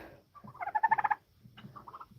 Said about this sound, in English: But that chirping noise means Whitey is cheerful